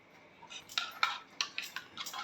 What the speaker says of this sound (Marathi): सगळं फेटून घेते.